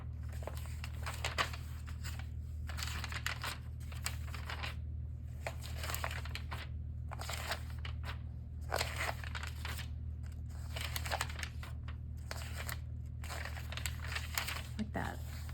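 Thin magazine paper is crumpled and handled in bursts for a junk journal, close crinkling rustles repeating every second or so over a steady low hum.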